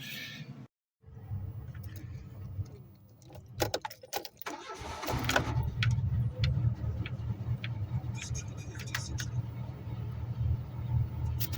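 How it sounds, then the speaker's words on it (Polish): A car engine cranks and catches after spark plugs are reconnected, a few clicks and a brief churn leading into a steady, moderately loud idle that runs on with occasional ticks. "samochód normalnie odpalił"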